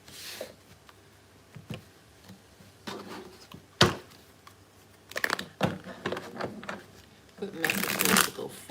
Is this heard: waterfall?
no